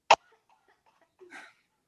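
A voice imitates a child's cough: one sharp, close cough burst, then after a short pause a softer, breathy throat sound, with no other noise around it.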